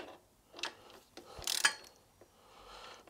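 Socket ratchet clicking in short bursts while snugging the foot control bolts on a Royal Enfield Interceptor 650, quiet and close with a few separate pawl runs and pauses.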